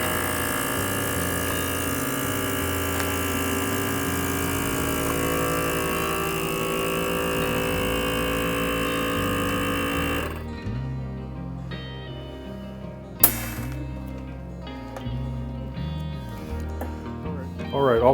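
A vacuum sealer works on a bag of beef ribs, its motor humming steadily for about ten seconds before cutting out, followed by quiet handling noises and one sharp snap.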